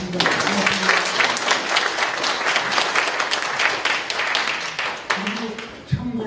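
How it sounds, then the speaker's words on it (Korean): Sustained audience applause at a forum keynote in Seongnam, dense steady clapping filling the room for several seconds, with a voice briefly over it near the end. "우리 이정혁 총재님께 감사의 박수 좀 부탁드리겠습니다"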